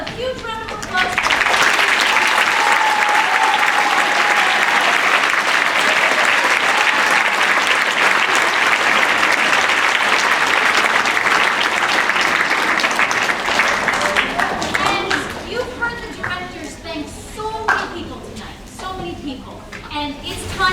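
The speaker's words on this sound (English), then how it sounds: "So let's have a huge round of applause." Loud, sustained audience applause fills a school auditorium after a middle school winter concert, steady for most of the stretch before thinning into scattered claps with a few voices near the end.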